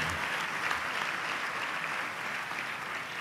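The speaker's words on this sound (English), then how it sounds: "I think we need an applause for them" Steady audience applause fills the hall at a birthday celebration, a dense, continuous wash of clapping from a large crowd that holds level throughout.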